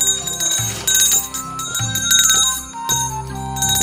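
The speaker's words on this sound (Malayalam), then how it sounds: "മണികുലുക്കിയാണ് വരവ്." An Onappottan folk performer shakes a hand bell during Onam, giving a continuous, loud jangling ring with bright tones layered over lower sustained sounds.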